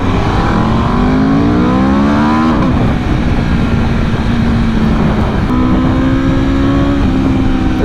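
Aprilia RSV4 1100 Factory motorcycle with a Leo Vince slip-on exhaust accelerating hard nearby, loud rising engine howls through the gears, a brief drop, then another climbing pull.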